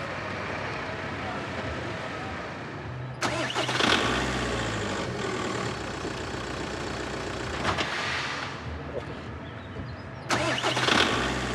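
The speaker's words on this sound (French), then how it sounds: "Après 2 essais infructueux, la voiture démarre enfin" A car engine cranking through two failed starts before catching, with loud grinding starter bursts, then a rough idle and revving, and faint voices in the background.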